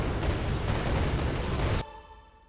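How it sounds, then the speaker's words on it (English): A big orbital cannon explosion in a video game, a loud, dense roaring blast that holds for nearly two seconds, then cuts off abruptly into a faint ringing tail. "the orbital cannons are basically, you can kind of see they do a big explosion afterwards"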